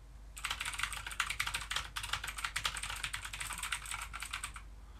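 A Motospeed Inflictor CK104 mechanical keyboard with clicky blue switches is typed on quickly and steadily, a dense run of sharp, close clicks lasting several seconds, with no talking.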